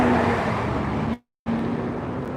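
A BMW car passes close by on a Queens street, a loud steady engine and tire rush with a sharp cutoff partway through before the roar resumes, no voices.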